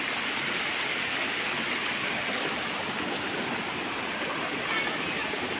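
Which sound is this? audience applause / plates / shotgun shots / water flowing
water flowing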